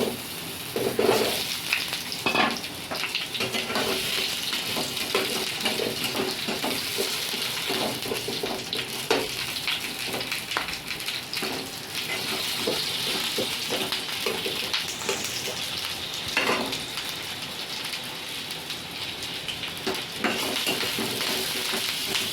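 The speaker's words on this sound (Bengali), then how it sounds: "প্রথমে আলুটা ভেজে নেব।" Potatoes frying in oil in a kadai, a steady close sizzle with occasional stirring scrapes and clinks throughout, no talking.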